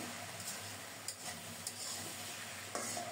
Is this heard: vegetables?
yes